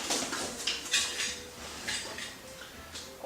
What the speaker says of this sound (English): I've got our stove and all of our pots and cook set.